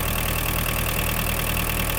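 A Japanese-built Mitsubishi MT-265 mini tractor engine, already warmed up, idles steadily and loudly up close with an even mechanical chug and no voices.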